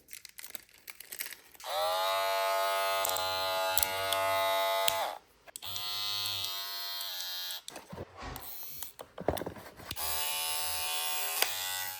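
A cordless hair clipper from a professional barber clipper, trimmer and shaver set buzzes in steady bursts, switching on and off several times with brief pauses between runs, close and fairly loud with no talking.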